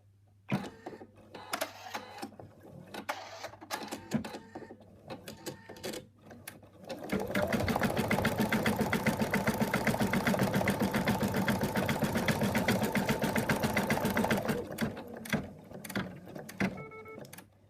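An embroidery sewing machine stitches an in-the-hoop elephant design, a steady rapid mechanical whir running loud for several seconds after quieter clicks and handling noises.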